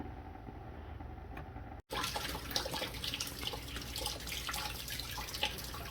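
Coolant pouring and splashing from the drain of a 4th-gen RAM truck radiator, a steady close watery rush that starts abruptly after a brief dropout and runs on continuously.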